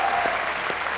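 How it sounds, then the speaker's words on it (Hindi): Studio audience applause at a Pakistani cricket talk show, a brief dense burst of clapping that fills the whole moment, loud and close, with no distinct voices. "ताली बजाओ।"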